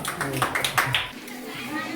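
A group of schoolchildren claps hands in a quick, uneven burst at a village school word contest, close by and briefly mixed with voices, then fading out.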